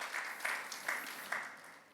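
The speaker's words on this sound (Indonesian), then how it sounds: "Yang setuju katakan amin dan berikan tepuk tanganmu bagi Tuhan Yesus" A congregation applauds during a Sunday church worship service, a steady wash of clapping with a few louder bursts, fading toward the end, no talking over it.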